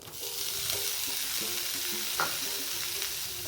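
Squeezed bitter gourd tossed into a pan of cooking mixture, frying with a soft steady sizzle and a few light stirring scrapes, close and moderately quiet with no voices.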